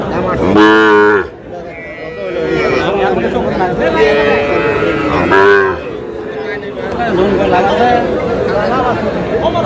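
Cattle moo loudly and repeatedly at a busy traditional village cattle market in Aftabganj, Dinajpur, where small bulls and heifer calves are traded, with a steady crowd chatter running underneath.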